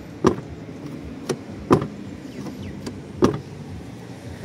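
A Haval M6 car door is shut several times after its lock is adjusted upward, giving separate solid thumps with pauses between them, close by and with no talking.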